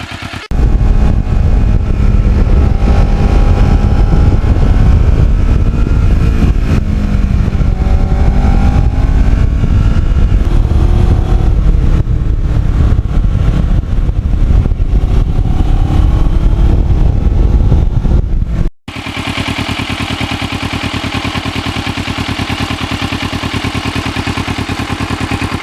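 A restored Kawasaki Ninja motorcycle riding on a hot day, steady loud engine drone with wind rush throughout, shifting in pitch slightly, then abruptly changing to a smoother, quieter engine hum near the end.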